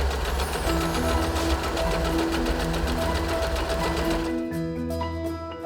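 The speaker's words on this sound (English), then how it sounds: "Point the pattern selector at D and start stitching." An Usha Janome Fashion Stitch sewing machine runs a stretch stitch pattern, a loud, close, rapid mechanical whirring with a regular needle beat, stopping abruptly near the end.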